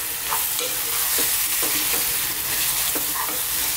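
Mashed eggplant bharta sizzles steadily in a pan over medium heat, with a spoon scraping and stirring through it several times at an uneven pace, close and continuous with no voices.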